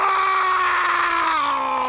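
A man lets out one sustained, strained scream that holds steady and then dips slightly in pitch near the end, loud and close.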